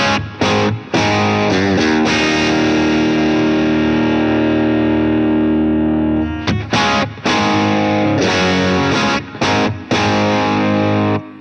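Distorted electric guitar played through a Blackstar St James amp plugin on its milder drive channel, loud sustained chords and riffs with brief pauses between phrases, alone with no talking.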